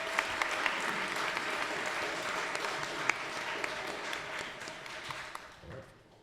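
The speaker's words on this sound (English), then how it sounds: "A round of applause." A city council meeting audience giving a round of applause, fairly quiet and roomy, with scattered sharper claps standing out from the crowd's steady clapping before it tapers off.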